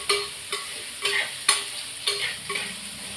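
Brinjal (eggplant) pieces frying in oil in a pan while they are stirred, giving a steady sizzle broken by repeated bright scraping stir strokes, close up and with no talking.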